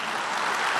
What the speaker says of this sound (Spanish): Pues denle un aplauso a su Señor.